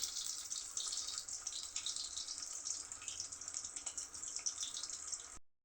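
Pointed gourd fritters fry slowly in hot oil with a steady, bright sizzle that hisses continuously at moderate volume for several seconds before cutting off.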